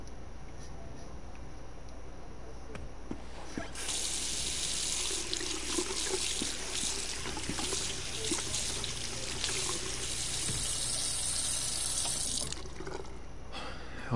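Water runs steadily from a sink tap in an indoor bathroom scene in Twin Mirror, a continuous close hiss with faint drips and trickles, alone without talk.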